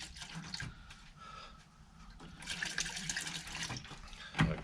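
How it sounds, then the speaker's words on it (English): Simple Green cleaner poured into a 30L ultrasonic cleaner tank, a steady liquid splash and trickle that swells midway with a brief clunk near the end, no talking. "I am going to pour a little bit more simple green in."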